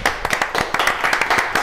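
A studio audience claps for a quiz contestant who answered correctly and won a blender, a quick run of steady, close applause lasting under two seconds.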